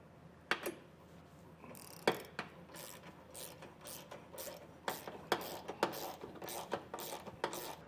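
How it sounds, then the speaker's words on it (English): An 11/16 socket on a ratchet tightens base plate bolts on a 2020 Jeep Grand Cherokee, with faint irregular clicks and metallic taps at close range over a quiet background. "we're going to take an 11/16 socket and get these snugged down"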